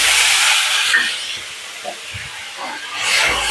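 Onion paste hits hot oil with cumin seeds for a jackfruit kofta curry, giving a loud hissing sizzle that fades to a softer simmer, then flares up again toward the end.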